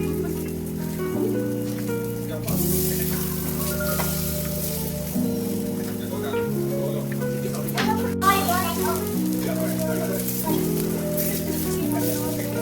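Food fries in oil in a pan with a steady, rain-like sizzle that runs throughout, heard beneath background music.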